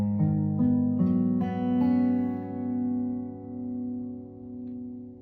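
A single capoed acoustic guitar chord from the verse of a song is strummed, then arpeggiated note by note, ringing close and clear and decaying slowly over about five seconds with no talking.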